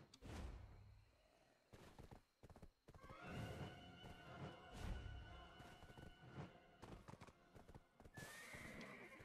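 Horse hooves clip-clop and a horse whinnies in the online game Black Desert, with several neighs and footfalls among thuds and game effects, fairly close and clear.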